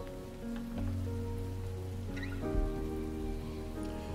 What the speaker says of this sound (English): The endless patter of rain on the streets creates a wordless song.